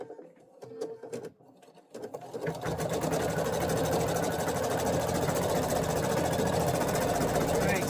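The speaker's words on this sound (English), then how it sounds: "we're going to start stitching the word sewing" Embroidery machine stitching with Richword threads starts up after a few quiet handling clicks and a voice, then runs in a fast, steady, close mechanical chatter of needle strokes.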